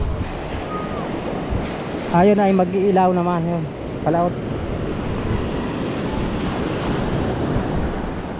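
Steady wash of ocean surf and wind noise runs throughout, with a person speaking briefly over it in the middle.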